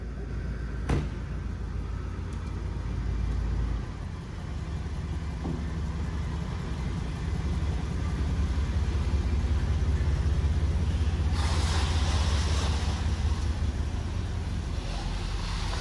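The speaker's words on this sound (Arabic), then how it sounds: "نقدر نسوق السيارة يا عامر؟" A 1976 Rolls Royce drives along with a low, steady engine hum and road rumble heard from inside the car, holding a constant level throughout with a brief rise of hiss near the end.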